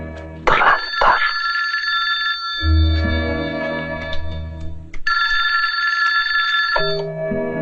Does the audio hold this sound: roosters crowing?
no